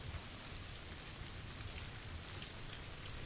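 Steady rainfall in the video game PlayerUnknown's Battlegrounds, an even, dense hiss of drops with no breaks, moderately quiet and without talk.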